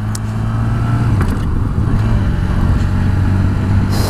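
A Honda VFR1200X motorcycle with a large 130-horsepower engine pulls up through the revs with a loud, close, smooth drone that rises and shifts pitch over a few seconds, no voices present.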